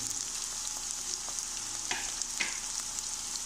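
Okra sizzling and frying in a pan as onions are added, a steady soft hiss with a few stirring scrapes and clinks, fairly quiet and without talk.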